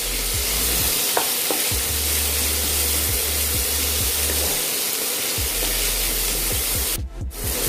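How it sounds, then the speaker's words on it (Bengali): Potatoes frying in a pan while being stirred, a continuous close sizzle with repeated scraping strokes and light clinks, loud and steady, no talking. "আমি এটাকে মিনিট খানেক নাড়াচাড়া করেছি"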